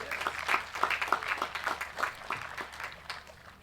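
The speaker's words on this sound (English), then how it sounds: "Can we please give them a huge round of applause for their hard work?" Applause at a high school graduation, a small group clapping in scattered, uneven bursts of distinct hand claps, fairly faint and distant, swelling early then thinning out.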